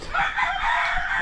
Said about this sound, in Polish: Rosie, zostaw koguty bojowe wujka